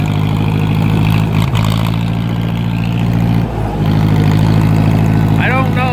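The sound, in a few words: 2010 John Deere engine running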